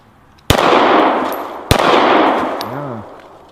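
Two sharp, loud pistol shots from a Rex Zero 1 CP 9mm, about a second apart, each followed by a long booming echo outdoors.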